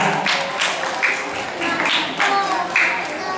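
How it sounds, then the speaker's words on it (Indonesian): Children at a Quran school Isra Mi'raj film screening applaud, with irregular clapping bursts mixed with young voices and chatter throughout. "Ayo tepuk tangan dulu anak-anak, tepuk tangan ya."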